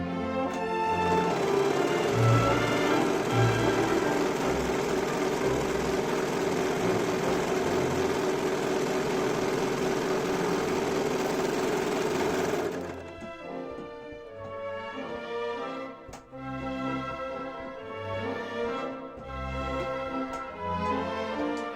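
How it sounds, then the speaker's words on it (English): An overlocker serges and trims the seam allowances of a sun dress with a continuous rapid mechanical whir for about twelve seconds. It then stops, and quieter fabric handling and machine clatter follow. "I'm making sure to cut off about 1/4 of an inch as I'm overlocking"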